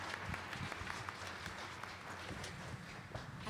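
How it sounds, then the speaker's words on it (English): An audience claps for panelists at a U.S.-Japan research symposium, fairly quiet and sparse applause with individual claps standing out, heard at a distance. "Please give a big round of applause to all the panelists."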